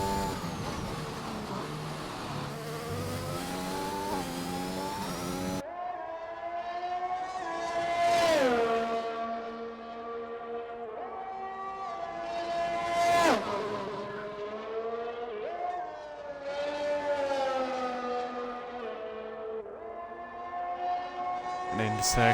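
A race car in a racing video game at Australia, engine whining and rising through gears with repeated high revs and downshifts, fairly loud and steady over about twenty seconds, with commentary voice underneath.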